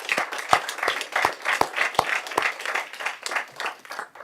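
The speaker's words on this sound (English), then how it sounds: "he deserves a round of applause for his work" A city council chamber audience gives a retiring staff member a modest round of applause, scattered individual claps standing out over a soft continuous patter.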